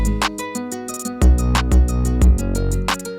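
Pumping trap beat from DaBaby's "Rockstar" where heavy sidechain compression makes the bass swell and duck around each booming kick, a rhythmic wobbling pulse under ticking hi-hats and a melodic loop, loud with no talking.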